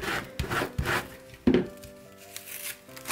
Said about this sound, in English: Give it a really good scrape to make sure everything sticks to the transfer tape.